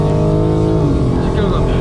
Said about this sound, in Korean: 자, 가속 준비합니다. 셋, 둘, 하나, 가속.